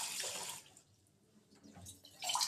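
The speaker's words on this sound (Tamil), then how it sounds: "இப்போ தண்ணி விட்டுக்கலாம்" Water splashes into a pot holding hibiscus flowers and leaves in short bursts: a pour, a quieter lull, then another pour, close and fairly soft.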